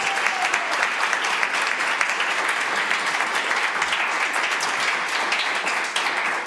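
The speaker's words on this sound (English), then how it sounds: "Y'all, how about one more round of applause for Matt Foster, the first half of the show here today?" Audience applause for Matt Foster at a live WDVX Blue Plate Special radio show, continuous dense clapping that stays loud and even throughout.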